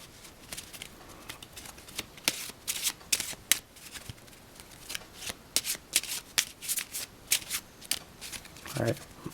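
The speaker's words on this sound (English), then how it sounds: "Shuffle those together." Playing cards are riffled and shuffled in quick, crisp bursts, close up, repeating over and over with short pauses between.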